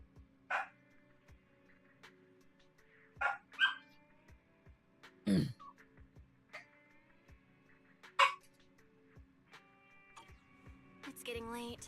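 Dog barking in a video game, a few short yips and barks spread out over quiet game ambience with faint soft tones between them.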